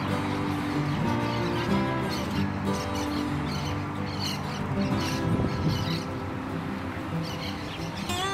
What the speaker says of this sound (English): you can hear in the background a lot of birds